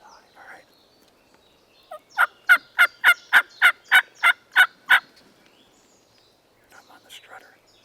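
A strutting male wild turkey gobbles in a rapid burst of about nine sharp, evenly spaced pulses. It sounds fairly close and clear over a quiet outdoor background during a hunt, with faint whispering before and after.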